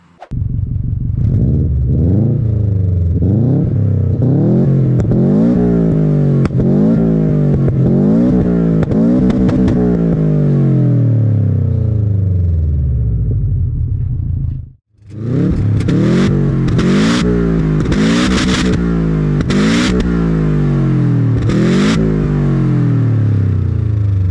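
A Subaru WRX STI engine with no exhaust silencer revs hard through repeated gear changes, pitch climbing and dropping in steps, with a brief cut mid-way before it roars on, unmuffled and close.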